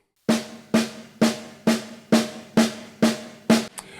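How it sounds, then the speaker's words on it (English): A snare drum played as a single stroke roll with alternating hands: eight evenly spaced, crisp strokes at a steady moderate pace, close and loud, followed by a faint clatter. "The first rudiment is the single stroke roll."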